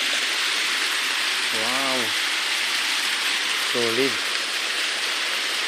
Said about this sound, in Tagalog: Maliit na falls lang yan, oh.